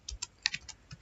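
Computer keyboard typing of programming code, a quick burst of about eight light, close key clicks in an uneven rhythm, with no one talking.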